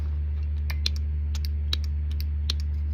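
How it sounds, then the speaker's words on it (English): Irregular sharp clicks from a device in a Suburban camper, faint and scattered over a steady low electrical hum, with no talking. "where's this clicking coming from?"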